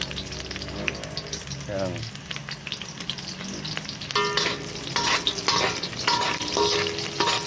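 Onions sautéing in a pan with ginger and garlic for Ilocano pinakbet, a steady loud sizzle running throughout with occasional stirring scrapes and a brief voice.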